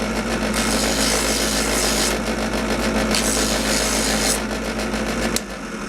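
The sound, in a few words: hand sanding aluminum master cylinder with a block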